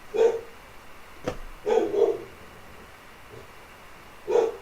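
A dog barks in short, separate bursts, about three or four sharp barks spread across a few seconds, close by and moderately loud with a faint background between them.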